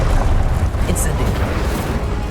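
An Incendio fire spell cast in Hogwarts Legacy gives a loud, rumbling fiery burst with a low roar that lingers, while a voice speaks over it.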